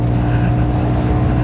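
A Honda Forza 350 scooter, fitted with 13-gram rollers, has its engine revved gently to around 7,500 rpm, a close, loud, steady droning hum.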